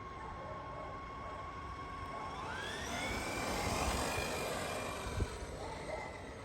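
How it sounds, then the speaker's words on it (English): An RC car fitted with an XR8 Pro G3 4268 brushless motor and XR8 sensored ESC runs in high gear, giving a steady high whine that rises in pitch as it speeds up, with a brief thump near the end. "now let's put it into high gear and just test the speed that it's got."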